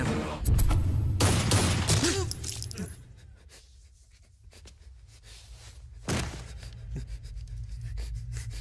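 Gunfire in a Hindi movie, a loud burst of rapid close shots with metallic clatter, then quieter ambience and another sharp impact, with a voice briefly heard.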